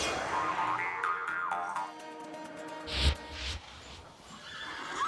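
Horses at a Bashkir horse farm, mares lined up for milking, let out loud whinnies and neighs close by, with a sharp snort or thump partway through.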